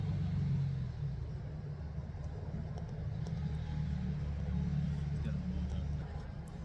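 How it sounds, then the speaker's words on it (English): Four-wheeler ATVs drive by outside as a steady, low engine rumble at moderate distance, with a faint voice in the background. "So, sorry, there's some 4-wheelers going by"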